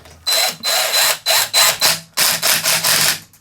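Bolt on a McCallister electric scarifier tine being tightened with a ratchet, several loud bursts of rapid clicking separated by short pauses, close by with no talk.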